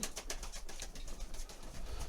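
Pigeons in a loft of rare coloured racing birds keep up a soft, continuous murmur of overlapping coos and wing rustles at close range, with no talk.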